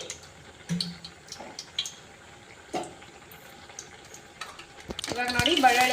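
Mustard seeds, cumin and garlic tempering in a few spoons of hot oil: scattered clinks and stirring, then a sizzle that swells near the end, with a voice talking over parts of it.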